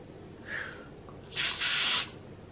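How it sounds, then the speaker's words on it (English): Two short hissing bursts of an aerosol spray can, a faint brief puff followed by a longer, louder spray, close by. "I wonder if it'll be okay to spray in the lid."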